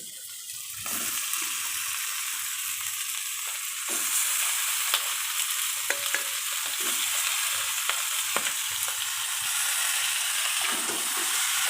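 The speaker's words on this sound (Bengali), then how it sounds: "মাংসগুলো এখন আমি কড়ামে দিয়ে দিচ্ছি" Meat fries in a kadai with ground chili and green chili paste, a steady loud sizzle broken by repeated scraping and stirring clatters throughout.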